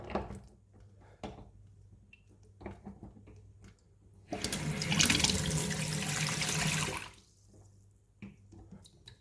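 Cold water running from a tap after reseating with an Aldi Workzone tap reseating tool: a steady, loud rushing stream for a few seconds, preceded and followed by quiet handling knocks and drips.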